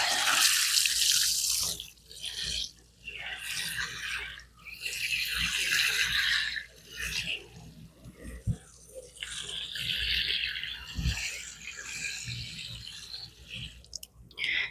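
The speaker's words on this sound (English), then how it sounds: "we're going to go ahead and water this in" Water poured and trickling onto soil as a freshly up-potted strawberry plant is watered in, heard as intermittent splashing bursts with brief pauses, moderately close.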